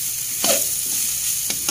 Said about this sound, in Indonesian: aduk kembali sampai benar-benar merata.